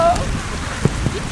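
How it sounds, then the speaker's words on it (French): Rain falling outdoors, a steady hiss with a few distinct drop impacts, while people talk over it. "Il pleut trop."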